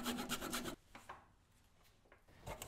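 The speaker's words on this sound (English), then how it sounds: "Grab this beat up old saw" Old hand saw cutting through the last fibers of English walnut, a brief burst of rapid rasping strokes, then quiet with faint scrapes and a short resumed stroke at the end.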